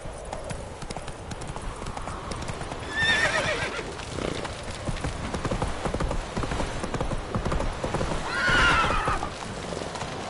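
Hooves of the horse Roach clip-clop steadily through a Witcher 3 gameplay scene, with two loud whinnies rising near the start and again toward the end over a constant busy backdrop.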